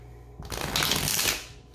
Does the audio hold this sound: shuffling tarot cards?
yes